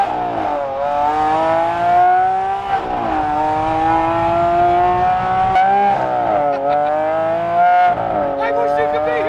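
A Lamborghini Aventador fitted with an FI exhaust accelerates hard, its engine note sweeping up through several loud, close rising pulls between gear changes, with excited voices mixed in.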